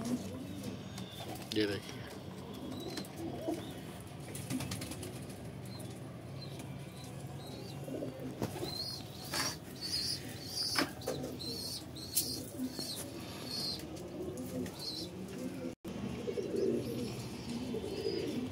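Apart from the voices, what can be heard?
pigeons cooing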